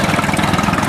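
Engine of an old, original tractor at a Red Power Round Up show, running steadily up close with a loud, continuous low rumble and no talk.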